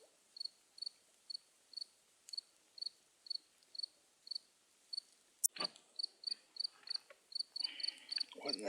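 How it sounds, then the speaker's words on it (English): A lone cricket chirps at night near a bonfire in the cold, short regular trills repeating about twice a second, clear against a quiet background, with a sharp knock midway and the chirps continuing faster afterward. "A cricket at 43 degrees?"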